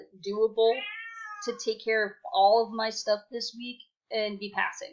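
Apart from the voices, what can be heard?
cat meowing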